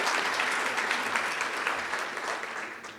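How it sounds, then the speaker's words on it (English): Audience at a manufacturing breakfast meeting claps steadily for several seconds, a dense, even wash of applause heard close with no voices over it. "Can I have another round of applause for all of the food and beverage manufacturers here?"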